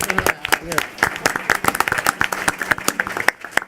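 A crowd claps at a Chicago Board of Education meeting, a dense burst of hand claps spread through the room, fairly loud, with voices talking over it.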